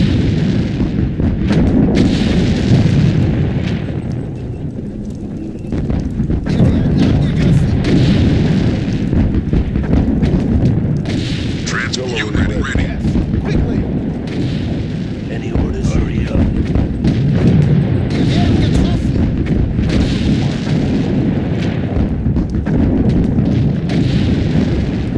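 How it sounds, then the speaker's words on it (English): Artillery fire in the World War II strategy game Sudden Strike 2, during the Battle of Anzio dock attack, is a continuous barrage of heavy booms and rumbling blasts that overlap loudly throughout, with no pauses. "Artillery ready. Target marked."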